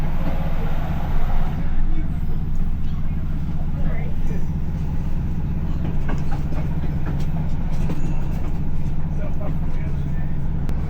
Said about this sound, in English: So, I thought I was on a rail replacement bus, but no, I'm on a train